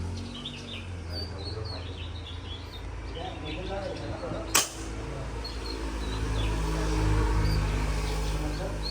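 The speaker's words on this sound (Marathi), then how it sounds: "मी आता समोरच्या समुद्रात एक शूट करतो." A single sharp shot from a small bird-hunting gun loaded with a pellet, fired out toward the sea from a mangrove shore, cracks once midway through steady outdoor ambience with faint bird calls around it.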